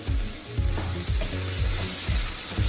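Potato bhaji, a Maharashtrian dish, sizzles and fries loudly in a pan at close range, with steady crackling and repeated scraping of stirring throughout.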